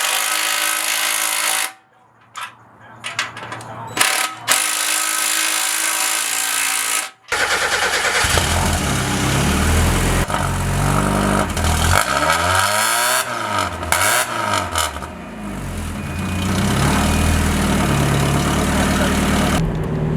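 NA Mazda Miata fitted with a new DIY catback exhaust starts up after short bursts of cranking, then settles into a loud, continuous idle with revs rising and falling, close to the exhaust.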